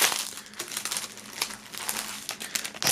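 Plastic foil wrapping on the contents of a Loredana Medusa merch box being crinkled during unboxing, a steady run of close, crackly rustles and crunches with a few sharper bursts, no voices.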